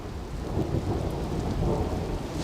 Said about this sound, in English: It's thundering quite a bit.